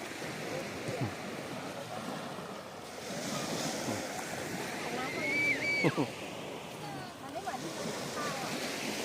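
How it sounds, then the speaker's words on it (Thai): Sea waves washing onto a beach at Hua Hin, a broad rushing surge that swells and recedes under wind noise, with people talking and children's voices nearby. "คลื่นคลื่นคลื่นทะเลมาครับ"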